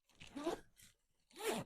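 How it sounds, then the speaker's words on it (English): The zipper on a Miss Fong diaper bag tote is run open and then closed: two quick, quiet zips separated by a short pause. "the zippers look like they work pretty well"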